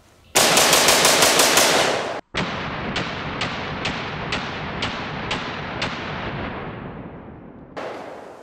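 A gun fires in rapid automatic bursts, with a fast run of loud, close cracks, a brief pause, then about eight spaced heavy shots trailing off, and a final blast at the end.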